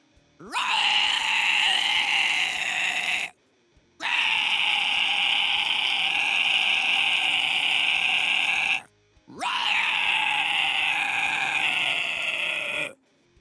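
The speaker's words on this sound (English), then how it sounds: "Just your easiest, most comfortable scream." Three long, sustained mid-range screams from one voice, as in a metal vocal warm-up, each held several seconds with short silent breaks between them, loud and close.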